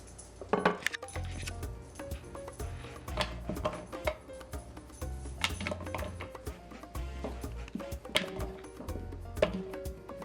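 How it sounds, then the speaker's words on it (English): Sweet potato pieces being dropped one after another into a pot for a Mexican camote dessert, making a busy run of knocks and clinks against the pot with no talk. "Now you're gonna grab your pot and start adding in all the potato inside."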